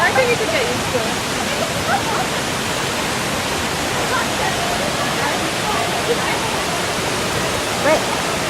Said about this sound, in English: Can you see the falls behind me?